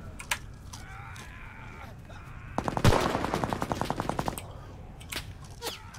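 Gunshots in a video game: scattered single shots open and close the stretch, with a rapid, loud automatic burst in the middle, and faint voices in the background.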